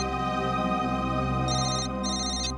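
A phone rings with a steady electronic tone under a constant background hum, with brief higher beeping bursts near the end, in a crime drama scene.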